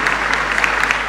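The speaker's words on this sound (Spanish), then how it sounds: "un aplauso a la hermana pues, por haber compartido con nosotros" Brief burst of applause from a church congregation, many hands clapping in a dense, fairly loud patter with no voices over it.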